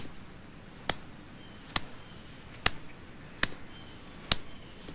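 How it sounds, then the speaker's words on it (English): Five sharp hand claps land at an even, slow walking pace across a playground, each clap crisp and isolated against quiet outdoor background noise. "try walking across the playground and clapping your hands each time you take a step"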